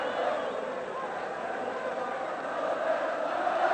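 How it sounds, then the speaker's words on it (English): Large crowd of Aston Villa football fans at the league champions' civic reception, a continuous roar of cheering and shouting heard at a distance. "Can you hear this crowd?"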